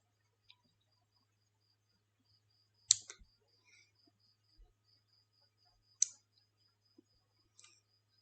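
Mouse clicks while working in Adobe Photoshop, a few sharp isolated clicks spaced seconds apart over near silence, with a faint steady electronic whine behind them.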